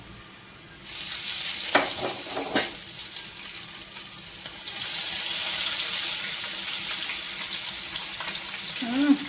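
Garlic and cumin paste frying in a pan for bitter gourd karam, a steady hiss with a few stirring clatters near the start and a louder sizzle building toward the end.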